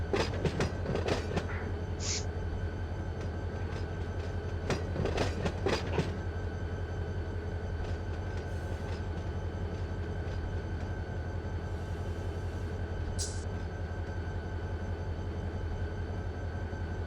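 Locomotive in the Run 8 V3 train simulator pulling forward to park for the night, a steady low engine rumble with rail clatter and a few brief squeals, continuous and close.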